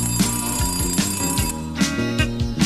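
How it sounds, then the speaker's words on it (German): A shrill alarm clock ringing in quick repeated bursts against a bouncy musical backing, each ring sharp and close. "Neulich lag ich so im Bett, da ging der Wecker schrill."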